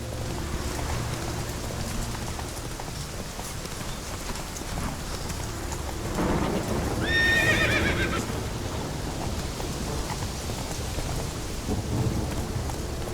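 Horse in The Witcher 3 video game gives a loud, shrill neigh midway through, heard over steady rain, rumbling thunder and hoofbeats throughout.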